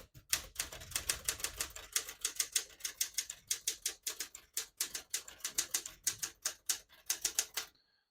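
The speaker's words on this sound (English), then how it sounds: "Beautiful typing machine." Rapid clacking of a 1967 Smith-Corona Super Sterling portable manual typewriter, keystrokes striking in quick uneven bursts, close and crisp, ending abruptly.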